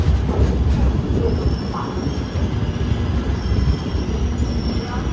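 Loud, continuous rumble of the Grand Trunk Express running on rails, with a steady rattling roar and a faint metallic squeal from the wheels.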